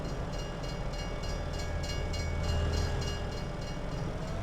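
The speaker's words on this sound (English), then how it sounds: "Okay, so the train goes through." A train rumbles past in Farming Simulator 22, a loud continuous rolling roar with a faint rhythmic clatter of wagons, swelling slightly midway and holding steady throughout.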